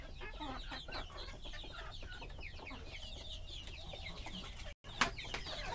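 Native chickens and a rooster cluck on a small farm, a busy stream of near, fairly soft clucks and chatter with a brief dropout near the end.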